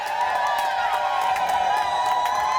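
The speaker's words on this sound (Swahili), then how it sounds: "Wapi shangwe na vigelegele kwa mama jamani?" A crowd cheers and ululates for a mother at a celebration, a dense, sustained wall of high trilling voices and whoops, loud and continuous with scattered shouts on top.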